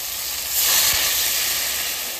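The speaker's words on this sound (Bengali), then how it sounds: "এবার কাঁচা মাছে আমি জল দিয়ে" Water splashes onto raw magur catfish in a hot pan, setting off a loud, sudden burst of sizzling steam hiss that holds steady for a couple of seconds, with no voices.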